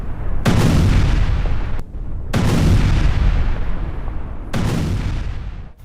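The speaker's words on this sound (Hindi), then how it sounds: "अमेरिकी हमलों के बाद धमाका हुआ है।" Large explosions follow US strikes in Sirik, Iran, heard as three heavy booming blasts in a row. Each one arrives abruptly, holds as a loud rumbling roar for over a second, then fades into the next.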